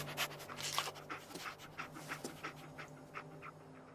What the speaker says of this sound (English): Dog meat. Get the scent